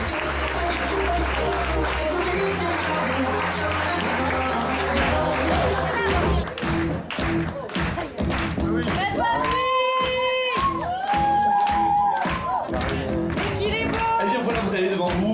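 An audience at a wedding fair fashion show in Saubrigues applauds and cheers amid loud music, with a crowd clapping through the clip and voices talking and calling out.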